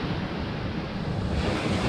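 Waves and strong wind on a Bristol Channel shore at high tide, a continuous loud roar of surf mixed with buffeting wind noise on the microphone.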